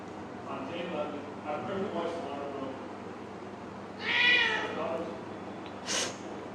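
Kittens meow at home in a few separate calls, one drawn-out meow and a sharper, shorter one later, with soft murmuring earlier in the clip.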